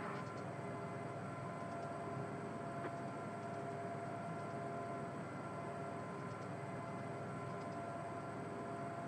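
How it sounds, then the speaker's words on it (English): A locomotive in Train Simulator 2021 rumbles past as a continuous, steady drone of engine and rolling wheels, moderately loud and unbroken throughout. "A locomotive I know very, very well from the local service unit in my area."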